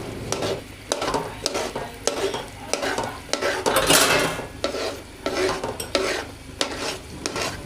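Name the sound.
halwa cooking and being stirred in a pan over medium flame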